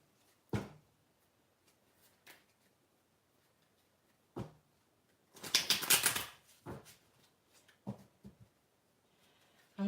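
A deck of cards is shuffled during a daily guidance card reading: a few soft scattered riffles and taps, then a denser burst of quick shuffling near the middle, close and quiet with no voices.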